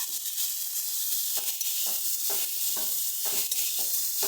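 Mixed vegetables and spices being stirred in a hot pan, a steady frying sizzle broken by repeated scraping strokes of the spoon at an uneven rhythm, close and fairly quiet.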